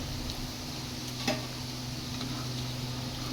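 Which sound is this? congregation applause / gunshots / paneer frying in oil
paneer frying in oil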